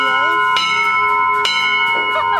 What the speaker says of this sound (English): I grabbed the lanyard on that bell and rang it a few times.